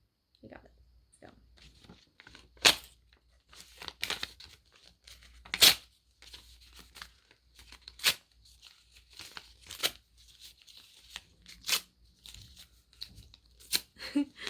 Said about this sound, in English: Let's tear it up together.